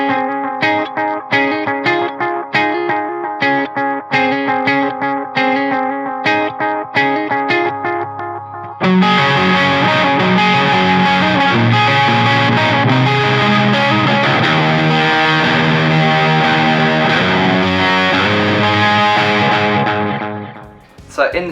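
A PRS S2 electric guitar is strummed through effects: choppy rhythmic chords at first, then a sudden switch to a thick, sustained distorted wash that rings on before cutting off.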